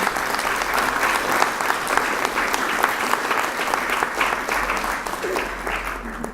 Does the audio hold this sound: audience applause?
yes